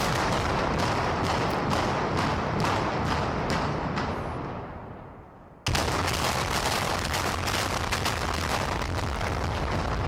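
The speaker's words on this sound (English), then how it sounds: "This is the sound you heard. This is the main sound of the wave." A building collapse sound effect used for a wave: a loud continuous roar of crashing debris with repeated heavy pulses tapers off, then abruptly returns at full strength and rumbles steadily on.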